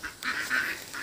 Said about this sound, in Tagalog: Nakakatuwa pag may alaga ang mga itik na.